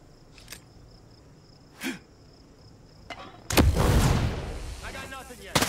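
A gunshot in the Ghost Recon Breakpoint video game: a few faint scattered pops, then a loud sharp report at about three and a half seconds with a ringing, decaying tail and further clicks at the end.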